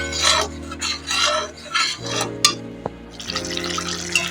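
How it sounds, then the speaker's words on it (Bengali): A spoon scrapes and rasps through potol korma with yogurt in a pan, in repeated close stirring strokes with short pauses, a wet, gritty texture throughout. "চার পাঁচ সেকেন্ড আমি এইভাবে মিক্স করে নেব নাড়তে হবে যেন না বসে যায়"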